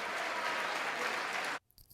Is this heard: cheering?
yes